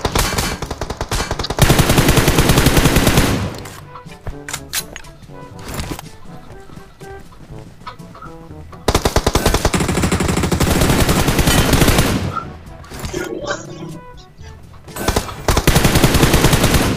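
PUBG Mobile gunfire comes in loud, rapid automatic bursts of machine-gun fire, several separated by quieter gaps.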